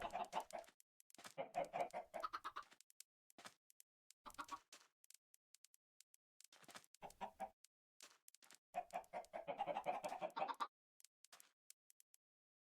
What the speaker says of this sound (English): Oh, these poor chickens think they're getting seeds.